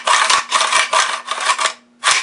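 Saiga 7.62x39 AK rifle action cycled by hand, giving several rasping metallic slides in a steady back-and-forth rhythm, close and fairly loud, with a short pause before a final stroke.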